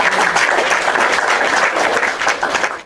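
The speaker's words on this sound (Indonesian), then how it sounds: "Kita kasih tepuk tangan dulu kepada Pendri." An audience bursts into dense, steady applause for almost three seconds, many hands clapping at once, loud and close, with no voices standing out.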